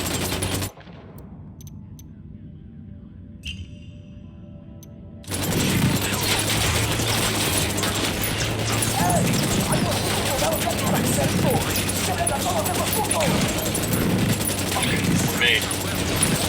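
Automatic gunfire in the video game Ghost Recon Wildlands: after a quiet stretch, a dense, loud burst of rapid shots breaks out and keeps rolling continuously, with a brief voice near the start.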